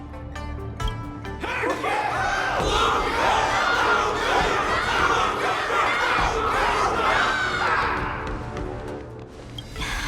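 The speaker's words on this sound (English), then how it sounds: "Everyone's cheering for you" A large crowd in a Honkai Star Rail cutscene at the Luminary Wardance event roars and cheers continuously, with shouts and scattered laughter rising and falling over ten seconds of loud, sustained noise.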